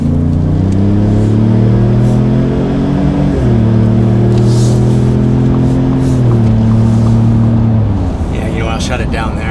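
A 2021+ Ford F-150 with an MBRP 3-inch dual rear exit cat-back exhaust revs up loudly and close, its deep droning tone climbing and shifting in steps as the throttle is held, then easing off near the end.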